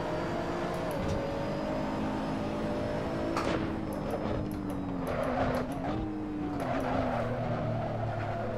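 A Nissan GT-R GT3 brakes hard at the Circuit de Catalunya in Assetto Corsa, its engine note dropping as the tires squeal and skid for several seconds, with other race cars nearby.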